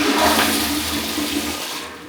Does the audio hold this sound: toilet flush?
yes